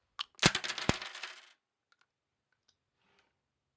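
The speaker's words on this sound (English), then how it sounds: "Got a bag here of letter tiles. I'm going to give it a good shuffle." A bag of letter tiles is shaken up close, a dense burst of hard clicking and rattling for about a second, followed by a few faint isolated clicks.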